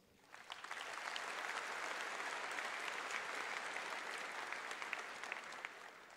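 Audience at a graduation ceremony breaks into applause that swells quickly from a quiet start, then holds as a broad, even wash of clapping, fairly faint and distant.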